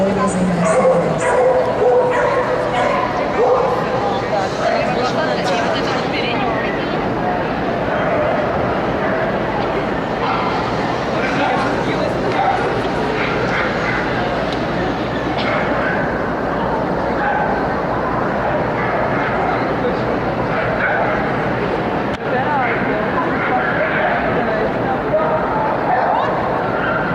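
Dogs bark, yip and whimper throughout at an outdoor dog competition, close and continuous, with a general hubbub of talk in the background.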